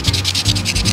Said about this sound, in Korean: 이 고운 사포로 조각칼 지나간 자리 중에 좀 거스러미가 생긴 애들이 있어요.